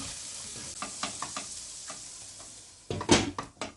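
Carrot fry with red chili powder and salt being stirred in a hot pan, soft scraping strokes over a steady sizzle, ending in a louder burst of clattering stirs.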